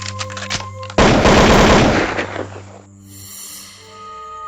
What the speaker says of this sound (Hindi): उसके दिमाग में उसी रिवॉल्वर से 4 गोलियां मारता है।